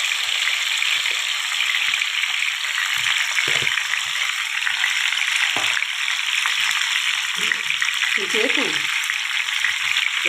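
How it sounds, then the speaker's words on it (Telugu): Tomatoes fry in hot oil in a kadai, giving a steady, dense sizzle throughout with a few faint clinks and stirring sounds. "తర్వాత ఈ కళాయిలో వేసుకొని ఫ్రై చేసుకుందామండి"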